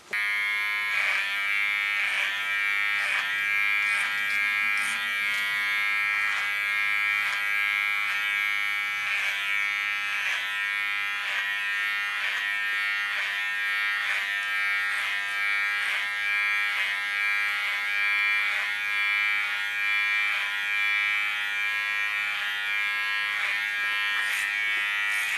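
Electric hair clippers shave the side and nape of a head, giving a steady, close, continuous buzzing hum that holds unbroken for the whole stretch, with no talking.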